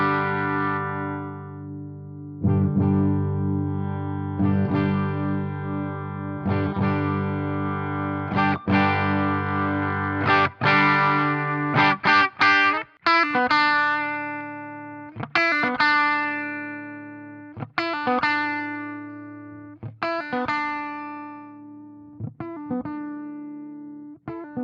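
A Charvel Pro Mod SoCal Style 1 electric guitar with a Floyd Rose bridge, strummed chords ringing out one after another, gradually shifting in brightness as the tone control is turned, played clearly alone.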